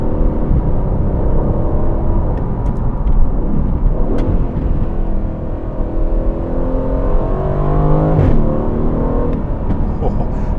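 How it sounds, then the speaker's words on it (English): A 503 hp Aston Martin Vantage in track mode roars and revs hard through rising gear pulls, its loud exhaust growling close up with brief pops between shifts. "The exhaust gets even more ferocious."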